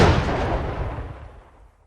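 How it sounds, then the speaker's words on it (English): A single loud gunshot with a sharp, close blast at the start that decays into a fading rumble over about two seconds. "So when they heard a gunshot again"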